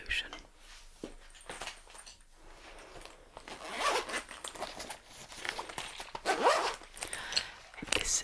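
A pencil case zipper is pulled open in several close, crisp rasping strokes with soft handling rustles in between, recorded up close in a quiet ASMR setting.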